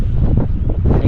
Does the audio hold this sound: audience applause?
no